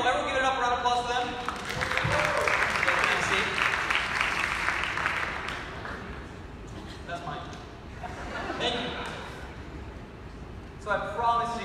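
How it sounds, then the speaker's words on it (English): A chapel audience breaks into applause that swells to a dense, sustained patter, then thins out as a voice begins speaking over the fading claps. "Everyone give it up. A round of applause for them."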